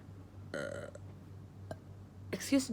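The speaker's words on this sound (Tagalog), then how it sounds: "Nag-burp ako ulit." A person burps twice while chatting at home on a rainy day, first a longer belch, then a short louder one near the end, close and fairly loud.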